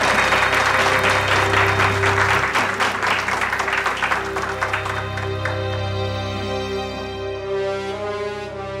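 Guests at a charity association gathering applaud Hünkar Yaman to the podium: a loud burst of many hands over a held musical score that gradually thins and fades, leaving the music alone.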